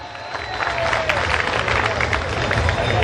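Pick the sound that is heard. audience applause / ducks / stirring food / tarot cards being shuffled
audience applause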